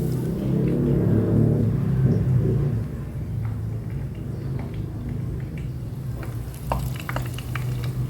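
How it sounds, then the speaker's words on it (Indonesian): Tempeh fries in hot oil in a multipurpose cooking pot, sizzling and crackling steadily, a low rumbling bubbling with occasional sharper pops and spits near the end. "tempenya mulai tergoreng dengan minyaknya yang panas"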